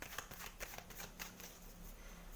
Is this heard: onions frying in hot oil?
no